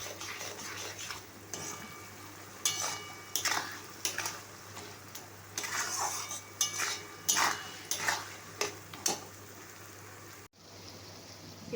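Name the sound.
frying and stirring spice paste in a pan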